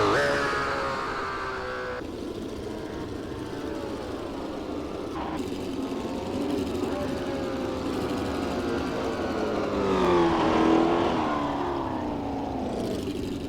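A race car engine in Assetto Corsa revs and shifts through gears in a continuous run, rising and falling in pitch with a sharp gear change near the middle and another climb toward the end.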